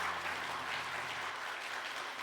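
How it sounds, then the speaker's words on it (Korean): A church congregation at a Korean Sunday worship service claps together in steady, sustained applause. The sound is dense and fills the room evenly, with a faint low hum beneath it. "우리 힘차게 박수 한번 할까요?"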